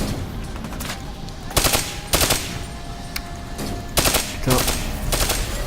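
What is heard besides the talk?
gunfire in Call of Duty: Black Ops 3 video game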